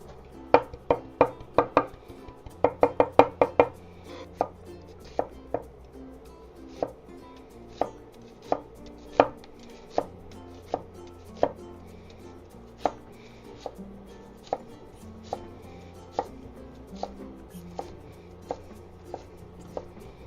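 A knife mincing greens for a quinoa salad on a cutting board, sharp close chops in quick bursts at first, then slowing to spaced single strikes, alone with no talk.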